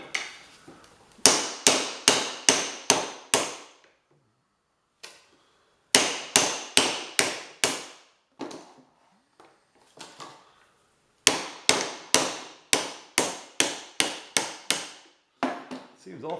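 Hammer tapping on an Emerson electric motor with rust marks, close and loud, sharp metallic strikes in quick bursts of about five or six, separated by short pauses and a few lighter taps.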